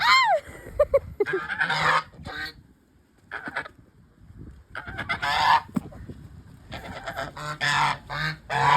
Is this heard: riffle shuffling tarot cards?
no